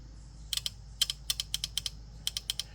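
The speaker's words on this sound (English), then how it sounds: "if I'm quiet, you should be able to hear this one click" A fuel injector on a test rig, removed for cleaning, clicking in quick sharp bursts of two or three ticks at a time, close and crisp over a faint steady hum.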